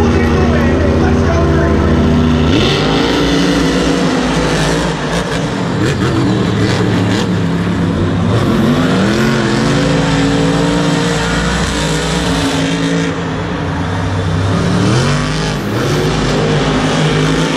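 Monster Jam trucks race inside a stadium, engines roaring and revving hard as they accelerate and shift, loud and sustained across the arena, with a commentator speaking over the din.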